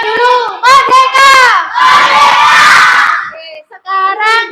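A classroom group of children shouts "Merdeka" in unison, several loud, ragged chanted cries in quick succession, then a noisy burst of cheering and a few more shouted calls near the end.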